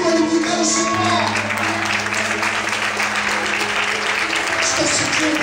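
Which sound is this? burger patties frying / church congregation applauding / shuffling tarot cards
church congregation applauding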